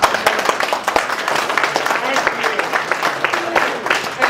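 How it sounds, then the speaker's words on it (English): A Tea Party town hall audience applauds for Joe Walsh, a dense patter of many hands clapping steadily at moderate loudness, with someone talking over the applause. "before you before you keep clapping for Joe Walsh"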